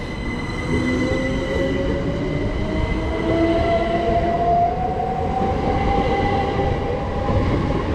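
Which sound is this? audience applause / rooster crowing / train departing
train departing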